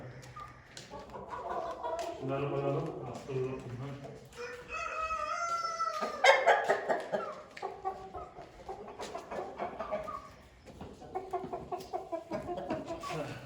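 Laying hens and other chickens cluck in a coop during egg collection, with a rooster crowing amid steady nearby fowl noise while a person talks briefly.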